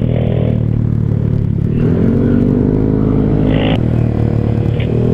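Loud motorcycle engine revving up close, pitch rising and falling with a rough mechanical rattle throughout.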